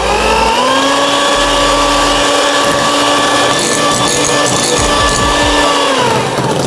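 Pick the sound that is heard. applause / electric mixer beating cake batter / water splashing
electric mixer beating cake batter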